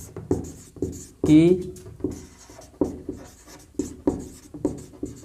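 A pen scratches across paper during a handwritten Class 10 math exercise, in short close strokes repeated roughly every half second, with someone speaking briefly over the writing.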